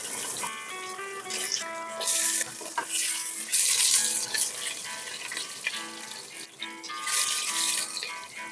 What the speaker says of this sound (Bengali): প্রথমেই দিয়ে দিচ্ছি আলু।